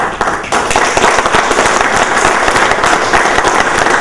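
Loud, steady applause from a conference audience for Samson David and his group at an agricultural ICT consultation, dense clapping sustained throughout with no pauses.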